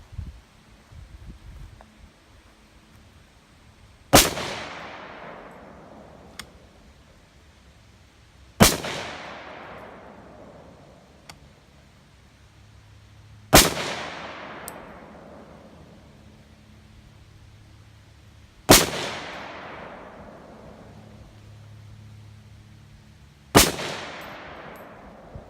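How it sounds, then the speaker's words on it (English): Five sharp rifle shots from a Teludyne rifle on a test range ring out at even intervals of roughly five seconds, each a loud crack with a decaying echo, and quiet background between them. "So now we're going to fire 5 rounds, and see what it does."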